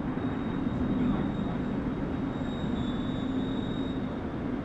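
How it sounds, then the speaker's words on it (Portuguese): A moving train in the Medal of Honor: Underground video game gives a steady, loud rumble of rolling wheels with a faint high squeal running through it, unbroken and without talk. "eu acredito que o trem tem movimento"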